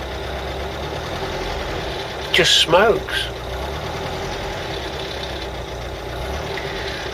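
The engine of a 1977 Ford Cortina Mk3 estate idles with a steady, even drone, and someone speaks briefly over it.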